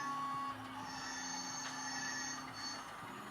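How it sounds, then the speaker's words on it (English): Wheels squeal faintly on the track as an HO-scale model railroad train crosses a bridge into a yard, giving a thin, high, continuous screech over quiet running noise. "You can hear the squealer with its lovely railroad sound."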